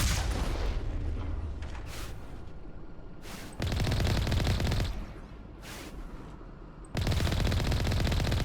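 Sustained bursts of rapid weapon fire from the Mass Effect 1 video game roar in long, dense stretches, broken by short lulls and sharp restarts, with no talking.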